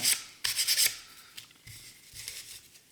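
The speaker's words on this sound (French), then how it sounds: "un petit coup de ponce vite fait" Hand sanding with 400-grit sandpaper on a scale-model part gives short, raspy rubbing strokes in quick bursts, close and fairly quiet, with pauses between passes.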